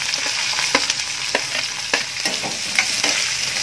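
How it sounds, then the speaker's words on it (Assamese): Chopped onions fry in a hot pan for chole paneer with cardamom and cinnamon, a loud steady sizzle with regular stirring scrapes close by. "এতিয়া মই ইয়াত দি দিম কাটি লোৱা পিঁয়াজকেইডোখৰ"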